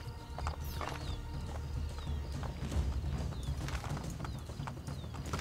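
Horse hooves clop rapidly in a steady galloping rhythm in the video game Assassin's Creed Brotherhood, with a few bird-like chirps and faint background sounds over continuous low rumble.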